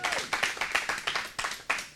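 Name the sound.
audience applause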